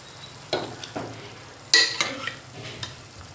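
Mutton pieces stirred into oil-released masala gravy in a pan, a few separate scraping stirs with a soft sizzle underneath, close and fairly quiet.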